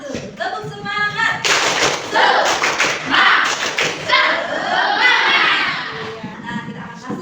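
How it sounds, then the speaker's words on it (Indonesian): A group of children in a religious studies class does a rhythmic spirit clap, crisp sharp patterns of claps in quick bursts with some voices and chanting mixed between them. "Tepuk semangat."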